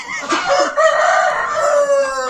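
A rooster crows loudly and close by in a long drawn-out call, with clucking from other chickens around it.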